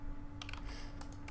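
Quiet bursts of computer keyboard typing, a few quick clusters of key presses over a low steady hum, close and faint.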